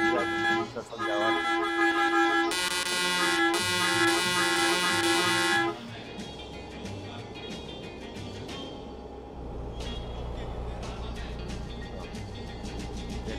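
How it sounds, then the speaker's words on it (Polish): A car horn blares in a long, loud, steady tone for several seconds from inside the vehicle, then cuts off, leaving engine and road noise while people talk. "Jak klakson chodzi? Działa?"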